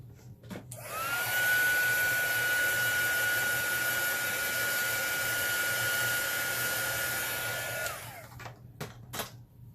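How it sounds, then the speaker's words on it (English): A steady, loud heat gun whir starts abruptly, runs continuously for about seven seconds with a faint whine, then cuts off, followed by light handling clicks. "I'm going to give it a quick little blow down with my heat gun"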